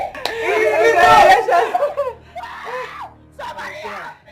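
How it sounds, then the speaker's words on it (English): A woman screams in a long, strained, anguished cry, loud and close, followed by shorter wailing sobs and whimpers in a tense dramatic scene. "This scream is not ordinary."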